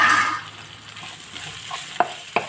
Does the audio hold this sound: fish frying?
yes